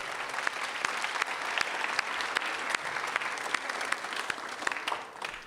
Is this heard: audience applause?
yes